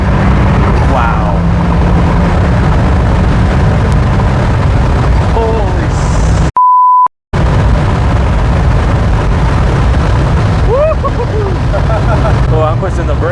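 A Flyin' Miata turbocharged NC Miata accelerates hard, its loud engine and wind roar filling the cabin, briefly cut by a dropout, with an excited exclamation from the occupants.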